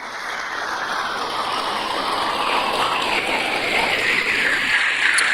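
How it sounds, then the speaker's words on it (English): A large audience at a school event applauds steadily, a broad roaring wash of clapping that holds even and loud throughout with no voices over it. "Let's give them all a big round of applause."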